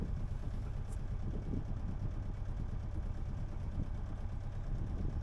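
A sailboat's engine idles steadily and close in the first gear detent, a constant throbbing rumble with no change in pace and no voices.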